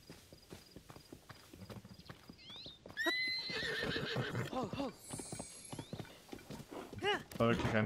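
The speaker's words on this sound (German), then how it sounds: "So, ich habe ein tolles Wildpferd für euch." A wild horse in Zelda: Tears of the Kingdom clip-clops with soft hoofbeats, then gives several loud whinnies and snorts up close, with someone talking in German over parts of it.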